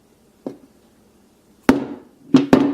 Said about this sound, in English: we're actually just going to drop the phone